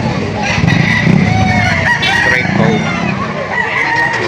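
Roosters crow repeatedly amid general clucking at a busy chicken auction market in Lipa City, loud and close, with people talking over the birds.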